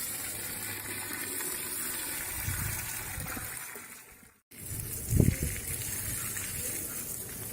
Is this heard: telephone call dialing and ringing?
no